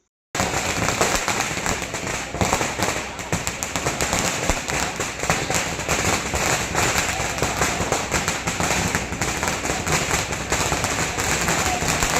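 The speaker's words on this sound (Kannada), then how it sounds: "ಪಟಾಕಿ ಸಿಡಿಸುವ ಮೂಲಕ ವಿಜಯೋತ್ಸವ ಆಚರಣೆ ಮಾಡಿದರು." A dense, rapid string of firecrackers bursts continuously at an election victory celebration in Chamarajanagar, loud and close, a relentless crackling barrage with no pauses.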